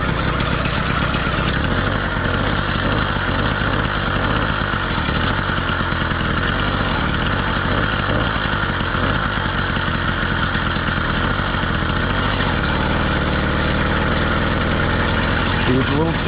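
Motorized bicycle engine running loud and close on a test ride, a continuous rough, slightly chuggy two-stroke drone with rapid pulsing that settles near the end.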